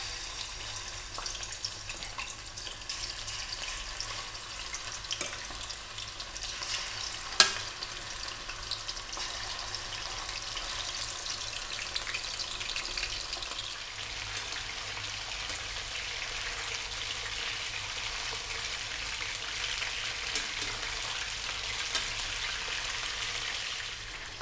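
Chicken pieces frying in oil for Filipino chicken curry, a continuous crackling sizzle like light rain, fairly even in level, with one sharp click partway through and no voices.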